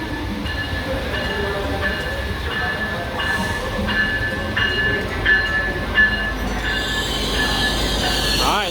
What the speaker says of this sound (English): Alright, let's board the train, Brightline.